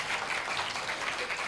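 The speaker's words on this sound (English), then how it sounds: "Give applause to all of our great presenters today" Audience applause for presenters at an academic conference plenary session, a dense, even patter of many hands clapping at a distance, lasting just over a second and a half with no voices over it.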